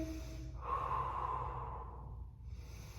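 Deep, slow breath drawn and released near the microphone while holding a crescent lunge in a morning yoga workout, a single long inhale and exhale over a steady low room hum.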